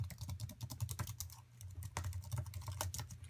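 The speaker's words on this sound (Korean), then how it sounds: "키를 칠 때마다 좀 소음이" Rapid, clattery typing on an Apple Wireless Keyboard, close and fairly loud, with uneven bursts of keystrokes and a brief pause midway.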